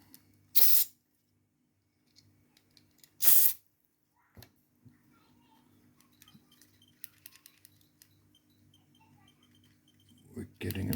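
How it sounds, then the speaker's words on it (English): Two short hissing bursts of spray hit a Nintendo Switch controller stick, loud and close, separated by a few seconds, followed by faint clicks and handling noises and a voice at the very end. "I'll give it one more spray."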